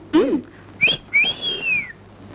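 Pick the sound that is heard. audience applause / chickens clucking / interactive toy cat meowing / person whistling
person whistling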